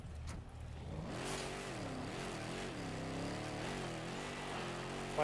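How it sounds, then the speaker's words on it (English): New car engine in an online shooter game, droning steadily throughout with a wavering pitch as it revs up and down, loud and continuous. "New car sound."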